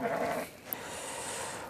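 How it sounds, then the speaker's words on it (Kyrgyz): A sheep of the Arashan breed bleats once at close range, a short wavering cry that fades into quiet farm background. "Бул мына ушул кой."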